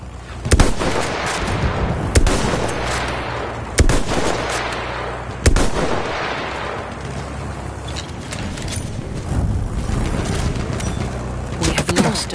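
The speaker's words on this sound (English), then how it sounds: "Enemy machine gun sighted." Gunfire in a video game battle: a few sharp, loud shots stand out over a dense, continuous rumble of distant shooting and explosions throughout.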